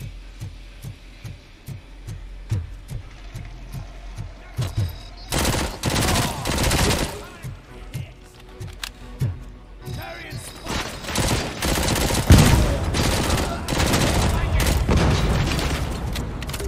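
Grenade launcher firing in the Robocop: Rogue City video game: a run of regular thumping shots, then heavy booming explosions and sustained gunfire, loud and dense, with someone talking over parts of it.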